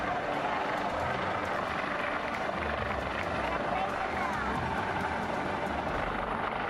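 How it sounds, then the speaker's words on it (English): A helicopter hovers over the open ocean to rescue a passenger from the Carnival Sensation cruise ship amid violent waves and winds; a dense, constant roar of rotor and wind fills the whole stretch without a break. "Carnival Sensation rescues a passenger in the middle of the ocean via helicopter."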